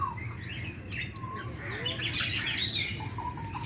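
Zoo parrots squawk and chirp in quick, overlapping calls, moderately close over a constant low crowd-and-ambience rumble, with no clear talking.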